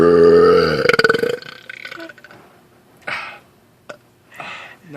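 A person lets out a long, loud, gurgling burp up close, then several shorter, softer belches and throaty grunts follow at intervals in an otherwise quiet room.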